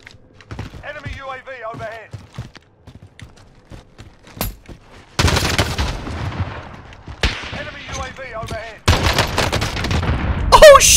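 Gunfire in Call of Duty Warzone, with sharp bursts of shots in quick clusters and loud sustained volleys in the second half, close and punchy, with faint voice-like game sounds early on.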